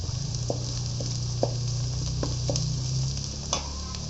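Sunflower oil bubbles and sizzles steadily while frying in a pan, a continuous close hiss with scattered soft pops and no talking.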